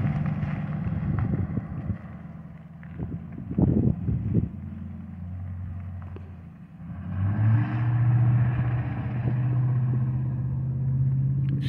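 A truck engine rumbles past up close, low and steady, then fades as another heavy engine drone rises and holds, with no talking.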